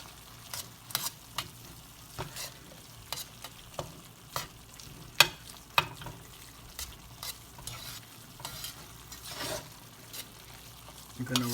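Ingredients for Spanish lasagna being stirred in a pan as they cook, with soft, steady sizzling and the intermittent scrape and clack of a utensil against the pan, all fairly quiet.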